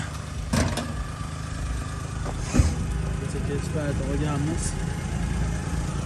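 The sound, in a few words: Daewoo Matiz car engine idling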